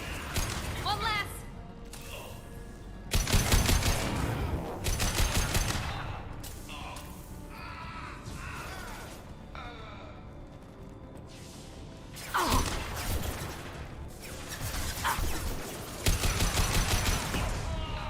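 Bursts of rapid video game gunfire break out in loud clusters, with a final shot landing as a headshot, mixed with mechanical clanks and whooshes while a person talks throughout.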